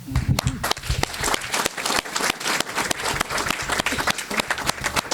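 An audience at a civic event gives the mayor sustained applause: dense, steady clapping from many hands, fairly loud and continuous throughout.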